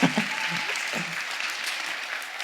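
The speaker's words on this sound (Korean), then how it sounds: "박수 한번 주실래요?" An audience applauds a speaker, an LG Electronics researcher, after he announces his hiring; a brief burst of clapping with a few laughs at the start, then a softer, even patter fading slightly.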